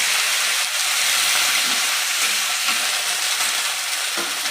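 Water poured into a Bengali fish curry with green chillies and tomato in a hot pan, producing a continuous loud frying hiss with bubbling crackle.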